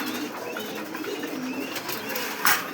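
Pakistani high flyer pigeons kept at a pigeon farm coo softly and continuously amid a hissy room background, with a brief louder flutter near the end.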